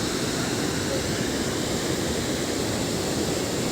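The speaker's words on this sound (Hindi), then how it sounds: "और वो नदी देखो" River flowing near Tawaghat in Pithoragarh: a steady, loud, broadband rushing of water with no break, like a fast mountain river close by, with no voices.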